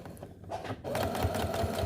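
A sewing machine stitches a cloth facemask, running in a steady, close, fairly loud whir after a brief pause at the start, with no talking.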